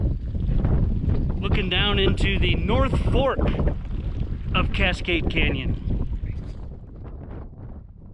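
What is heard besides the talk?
wind blowing at a mountain pass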